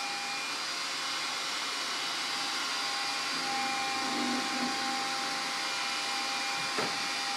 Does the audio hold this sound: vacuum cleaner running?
yes